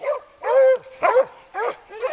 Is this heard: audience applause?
no